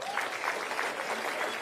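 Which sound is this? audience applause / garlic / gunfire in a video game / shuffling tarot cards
audience applause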